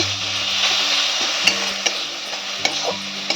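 Chopped tomato and carrot sizzle steadily in a pan as a spoon stirs and scrapes, with a few sharp knocks against the pan over the continuous frying hiss.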